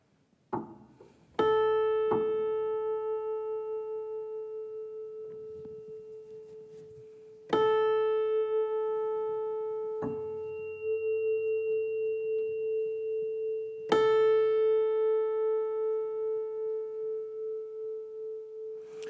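Piano notes struck one at a time and held, ringing a steady pitch with a slow wavering beat as two strings sound together; quiet, no speech.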